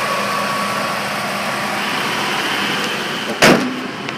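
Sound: 2005 Dodge Ram 2500 engine starting and idling

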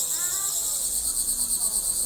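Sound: crickets chirping, Chinese fighting crickets

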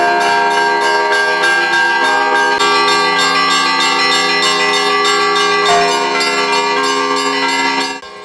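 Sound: continuous church bell ringing

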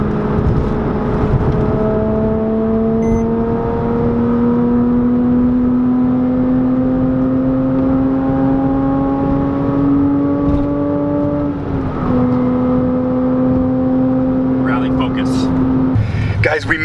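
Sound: exotic car driving and accelerating on a frontage road

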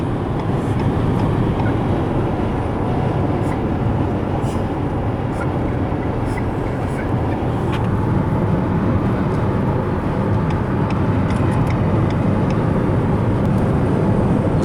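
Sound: Renault Captur PHEV cabin noise, combustion engine on highway

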